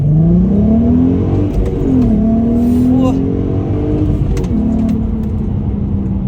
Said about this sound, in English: that Milltek exhaust makes such a difference